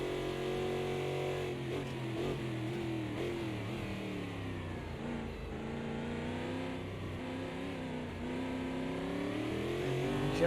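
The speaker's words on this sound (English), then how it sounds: "just hear the guys there easing on with the throttle" Racing car engines from a two-hour endurance race at Spa rise and fall as the drivers ease onto the throttle through a corner. The engine note is steady, buzzing and harmonic-rich, sustained and fairly close, and there is no talk.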